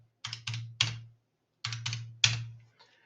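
Values typed into a spreadsheet on a computer keyboard: two close, quick bursts of three crisp key taps each, separated by a short pause.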